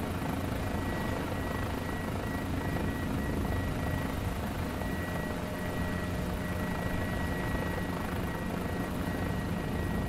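A Guimbal G2 helicopter in Microsoft Flight Simulator hovers with a steady, dense rotor and turbine drone, constant and close throughout, no voices over it.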